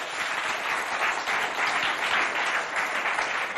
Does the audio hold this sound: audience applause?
yes